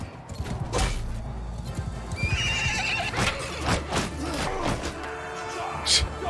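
Horse in the Mount and Blade Bannerlord video game giving a loud whinny amid hoof clip-clops and battle thuds, with a sharp high neigh in the middle and busy combat noise around it.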